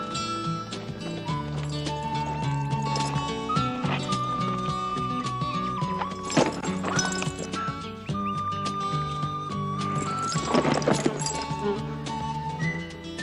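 Clopping horse hooves mixed with a whinny or two from the 1973 spaghetti western My Name is Nobody, set against a busy musical backdrop with shifting tones throughout.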